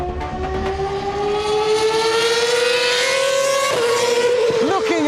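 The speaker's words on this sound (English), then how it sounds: "Looking at and listening to an F1 car" A Formula 1 race car engine screams loudly at high revs, its pitch climbing steadily through the gears with a sharp drop at a gearshift. A voice talks over it.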